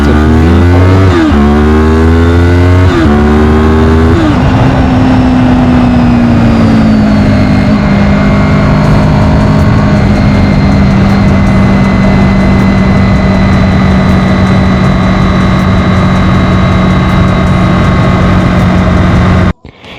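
A 2000 Honda VFR 800 Interceptor with a V4 engine, revving up through a few quick blips and then holding a loud, steady, close drone for about twenty seconds before cutting off abruptly.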